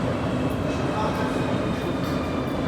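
Inside a metro underpass in Nuremberg, a subway train rumbles in a dense, continuous roar that fills the space, with people's voices mixed into the steady noise.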